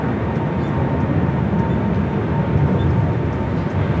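Steady broadband roar of a Boeing 787-9 Dreamliner at Los Angeles airport, a continuous low rumble heard at moderate distance with no voices.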